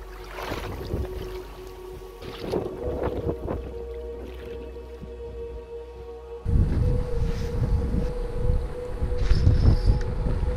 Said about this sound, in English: I'll just put the boat in the water and go for a little fish